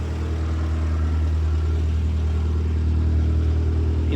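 A Renault Twingo car engine idles steadily with a low, constant rumble and hum, close and unbroken throughout.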